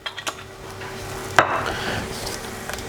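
Vegetables begin to cook in a touch of oil in a pan, giving a soft steady sizzle with a few clinks and scrapes of stirring, close and alone with no talk.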